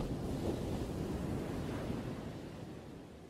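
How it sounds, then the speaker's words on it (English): Continuous low, broadband rumbling of an earthquake in a video game, a steady roaring wash that fades slightly toward the end, with no voices over it. "Wow, an earthquake is happening."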